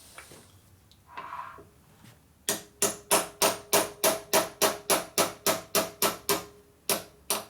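A hammer strikes a punch to drive out a dowel pin on a 1960s Harley XL kicker gear assembly, about fifteen sharp metallic blows in a steady, even rhythm, close and loud after a few quiet handling noises.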